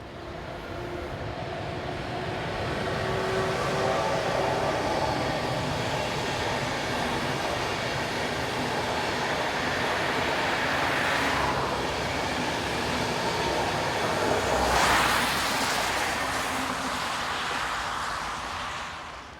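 An intercity train in the Rhine Gorge, hauled by locomotive 101056, rumbles past: a long, loud roar swelling as the carriages pass close by, with a brief squealing flare near the end before it fades.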